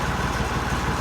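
A tractor engine chugs at a steady idle nearby, a dense, even low rumble filling the whole moment without voices.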